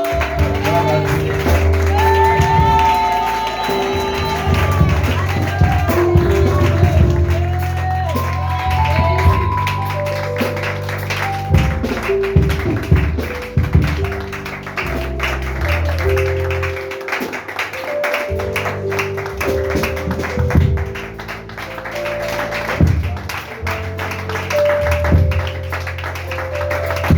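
A church congregation claps and cheers to welcome a reverend, a dense, steady wash of applause running throughout, with music or instruments sounding alongside.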